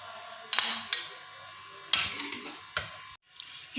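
Utensils scrape and clink against a pot and dish while aloo gobhi curry is served out, a few sharp metallic taps and scoops over quiet kitchen background.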